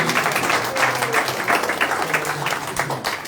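A crowd applauds steadily, a dense patter of many hands clapping at moderate loudness throughout.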